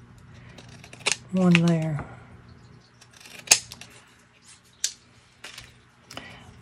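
Scissors snip through scraps of purple paper while cutting pieces for a layered handmade card, a few close crisp cuts between pauses, with someone talking over them.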